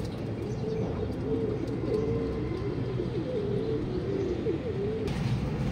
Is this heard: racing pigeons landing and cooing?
yes